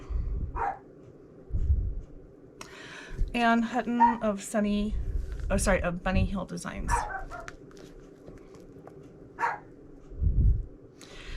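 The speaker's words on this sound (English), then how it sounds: "Sorry about the barking, guys." A dog barks and yips several times in the background while a person talks over it.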